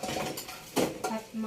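Ceramic plates and bowls clatter and clink as they are gathered for a beachside picnic meal, a few sharp knocks and scrapes close by in a windy outdoor setting.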